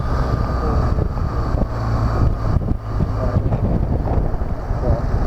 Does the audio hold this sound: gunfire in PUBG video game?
no